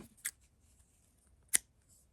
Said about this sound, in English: and I'm going to cut my work